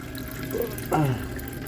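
Liquid from a leaking Cummins engine splashing into a bucket, a brief close trickle and splash lasting under a second over low background hum.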